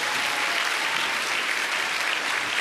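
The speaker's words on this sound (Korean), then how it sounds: "예, 큰 박수 부탁드립니다." Sustained applause from a large church congregation at a Seoul regional joint worship service, a dense, steady wash of clapping filling the whole stretch without a break, loud and even, with no voices standing out.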